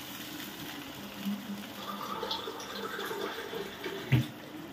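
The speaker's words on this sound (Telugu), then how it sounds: "వాటర్ పోస్తాను" Water is poured into a pan of simmering brinjal and mango curry, making a steady, moderately loud splashing pour that runs for several seconds with a brief louder splash near the end.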